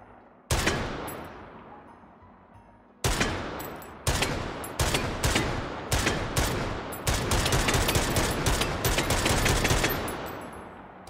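Semi-automatic gunfire in the VR game Hot Dogs, Horseshoes & Hand Grenades: loud close shots, first spaced apart with ringing tails, then quickening into a rapid run of single rounds.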